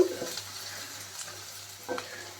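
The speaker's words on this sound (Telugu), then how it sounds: "ఉల్లిపాయలు అయితే వేగినాయండి ఇప్పుడు ఇందులో అల్లం వెల్లుల్లి పేస్ట్ అయితే వేసుకుంటాను" Onions frying in a pan with ginger garlic paste for a cluster bean curry, stirred with a few close scraping strokes over a soft, steady sizzle at moderate level, with no talking.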